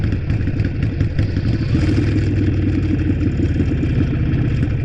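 A Harley-Davidson motorcycle's exhaust rumbles loud and close while riding, a steady low throbbing engine note with mechanical clatter and no talking.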